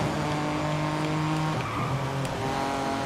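A Honda car racing in Forza Horizon 5 online, with a loud, steady engine drone that shifts pitch partway through. Brief tire squeal sounds near the end. The engine stays continuous and close throughout, with no voices over it.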